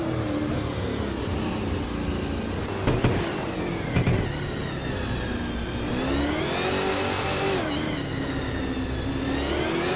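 A Ford Falcon FG race car in a racing video game drones along with a continuous loud engine note, the pitch climbing and falling through gear changes, with a couple of brief mechanical clunks partway through.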